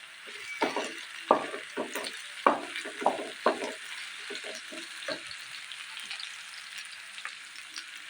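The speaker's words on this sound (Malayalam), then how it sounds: "ഉള്ളി പെട്ടെന്ന് വഴണ്ടി കിട്ടാനായിട്ട് അതിലേക്ക് കുറച്ച് ഉപ്പ് കൂടി ഇട്ടിട്ട് ഒന്ന് മിക്സ് ചെയ്ത് കൊടുക്കാം" Onions with salt fry in a pan for a Palakkad-style chicken curry, a steady soft sizzle broken by repeated scraping clatters of a spoon stirring, loudest early and tapering off, with no voices.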